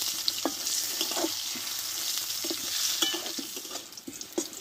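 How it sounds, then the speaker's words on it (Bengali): Eggplant pieces coated in turmeric and salt fry in hot oil, giving a steady close sizzle broken by scattered crackles and soft stirring scrapes. "বেগুনটা ভালোভাবে দুই পিস কষে নেবো একটু।"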